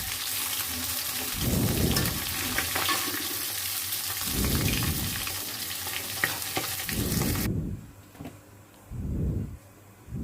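Fish sizzling and frying in a blend of mustard and soybean oil, a steady loud crackle with low bubbling swells that come and go, the sizzle dropping in brightness toward the end.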